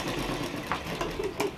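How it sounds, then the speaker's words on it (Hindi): Sewing machine stitching heavy Patiyala salwar fabric, a short stitch joining the gathered back panel; a steady close mechanical whir with a few faint clicks, no talk. "यहाँ पर ये हमारा पीछे का भाग चुन्नट वाला रखना है और इसको यहाँ पर एक सिलाई कर देना है छोटे से।"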